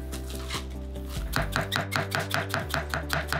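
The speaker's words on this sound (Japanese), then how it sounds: "そしてキャベツの千切りですね。" A knife finely shreds cabbage on a board for a tonkatsu sandwich, with quick, evenly spaced chopping strokes that speed up into a steady rhythm over a sustained musical drone.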